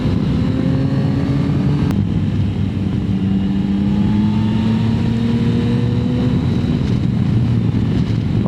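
A 2025 Yamaha Tracer 9 GT with its triple engine being ridden, a steady loud engine drone with rising harmonic sweeps as it pulls through the gears, wind noise throughout and no talking.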